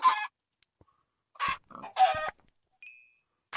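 Chicken clucking in Minecraft, several short separate bursts of clucks with brief silences between them, loud and close.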